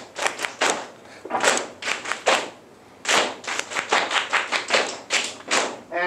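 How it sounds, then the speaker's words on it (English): A group claps a rhythm of short and long sounds of words in a music workshop for young learners: quick crisp bursts mixed with longer gaps, loud and close, about a dozen claps over several seconds. "Let's clap the short and long sounds of the words."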